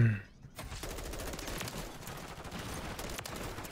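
Rapid automatic M4 rifle fire in Modern Warfare 3, a loud sustained burst of closely spaced shots starting after a brief pause and continuing without let-up.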